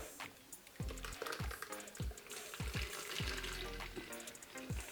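Green juice being poured through a strainer: a soft, continuous wet rush and trickle with intermittent low thumps and splashes, fairly quiet and close, with no talk.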